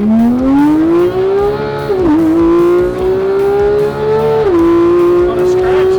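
A Porsche 911 GT3 engine, which revs to 9,000 RPM, screams loudly and close as it accelerates, pitch climbing steadily with two quick dips at gear shifts before rising again.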